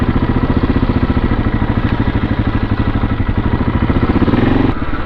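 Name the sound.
KTM 640 motorcycle engine while riding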